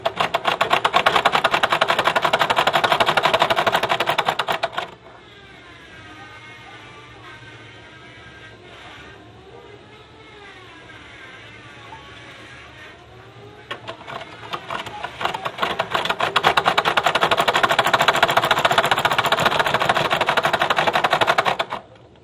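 A sewing machine stitches a kameez collar in loud, rapid mechanical runs, pausing for a quieter stretch with a faint hum and tonal whine in the middle, then resuming a fast steady chatter.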